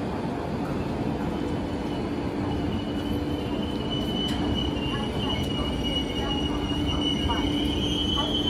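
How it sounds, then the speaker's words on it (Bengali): The 13147 Uttarbanga Express rolls into Malda Town station at night with a steady, loud rumble of wheels on rails and a thin, sustained metallic squeal of braking wheels throughout. "আমাদের ট্রেনটা এসে মালদা টাউনে পৌঁছায়"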